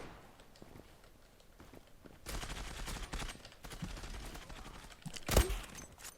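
In the Zula online shooter during a clan match, sustained automatic gunfire crackles from moderate distance, capped by a loud close shot near the end, with game ambience and light footsteps underneath.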